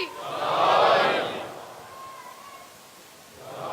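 A Muharram majlis congregation answers with a loud collective shout that swells and fades within about a second. Quieter crowd murmur follows, and a second rise begins at the end.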